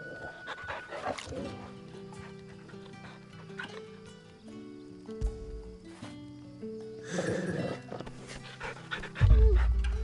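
A dog panting in Final Fantasy XVI, rhythmic breathy huffs mixed with game sounds and music, growing louder near the end.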